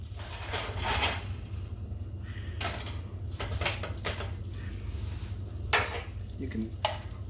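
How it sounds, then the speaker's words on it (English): Olive oil and butter heating in a pan over medium-low heat, giving a steady low sizzle with occasional clinks and stirring scrapes, moderately close, with no talking. "Add the olive oil and the butter to the pan. You're going to heat this to medium-low."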